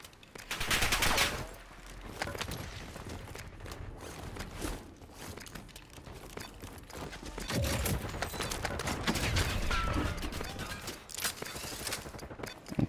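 Gunshots in a Call of Duty Warzone match on Rebirth Island rattle in repeated fast bursts against steady background noise, some close and loud, others lower, with faint footsteps and little talk.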